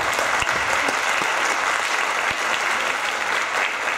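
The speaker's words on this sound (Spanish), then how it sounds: "denle aplauso al Señor fuerte por ella." A church congregation bursts into loud, dense applause that holds steady throughout, a continuous wash of many hands clapping together with a faint voice beneath.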